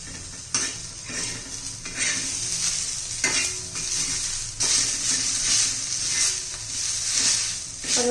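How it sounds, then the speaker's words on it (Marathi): Onion frying with ginger and garlic in a pan at close range: a loud continuous sizzle broken by repeated metal spoon scrapes and clinks against the pot as it is stirred. "कांदा आता आपल्या होत आलेला आहे त्यात आला आणि लसूण घालून घेऊया"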